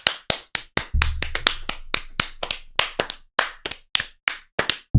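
A single person claps their hands about twenty times in uneven, loud, close bursts, some faster and some spaced out, with a low hum beneath a few claps and no one talking.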